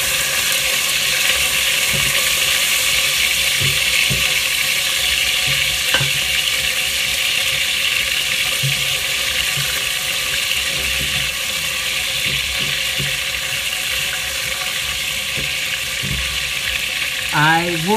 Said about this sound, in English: yeah, got the sizzle.